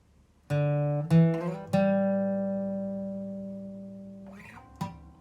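A few plucked acoustic guitar notes start a short riff, then one note is left ringing and slowly fading before a final pluck.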